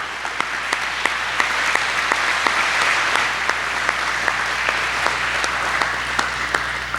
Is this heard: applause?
yes